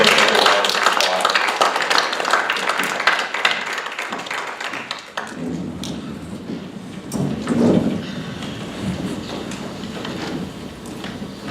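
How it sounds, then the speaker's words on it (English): Applause rings out at a city council meeting in Hot Springs: dense, steady clapping from a room of attendees for about five seconds, then thinning into scattered claps and murmuring voices as the room settles. "Let's give them a round of applause."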